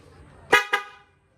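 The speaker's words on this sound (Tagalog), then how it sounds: "Kinabitan natin ng Fiam na busina" Two short, loud blasts of a Fiam car horn fitted to a car, the first slightly longer, sounding close and alone.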